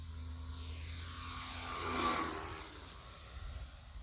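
A small RC airplane's engine whine swells as it makes a low pass close overhead, peaking midway with a pitch shift, then fading away; a steady hum runs underneath.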